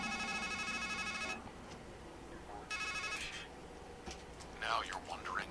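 A phone ringtone rings in the video game Strangeland, two bursts of a bright, repeating electronic ring separated by a pause, with softer game sounds and a brief chirping flourish near the end.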